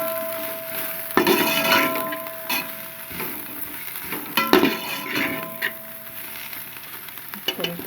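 A spoon scrapes and stirs carrot, onion and other vegetables in a cooking pot, giving soft sizzling and clinking strokes at an irregular pace, close and moderately quiet.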